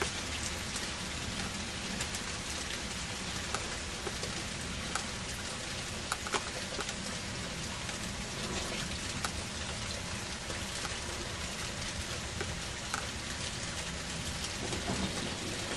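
Heavy rain from a severe storm pours down continuously, a dense loud roar of drops with occasional sharper splatters and no voices.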